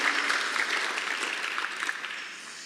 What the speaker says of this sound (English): Another round of applause for our city manager and our mayor